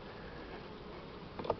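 Buckfast honeybees at their hive, giving a steady low buzz that lasts the whole short stretch, with a slightly louder flicker near the end.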